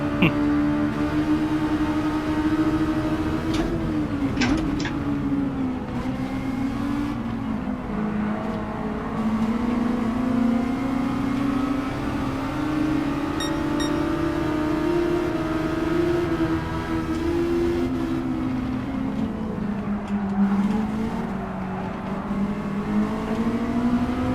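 A Mazda race car in a custom spec race at Trial Mountain in a racing video game, its engine droning steadily and loud throughout, pitch climbing and falling through gear changes with brief shift blips, no talk over it.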